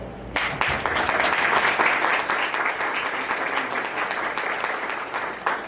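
A crowd at a Girl Scouts Gold Award ceremony breaks into applause, a sharp onset followed by dense, sustained clapping from many people that stays fairly even throughout.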